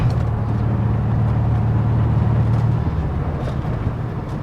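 A 1974 VW Beetle engine runs steadily and loud at close range, a continuous low, throbbing air-cooled drone that holds without a break.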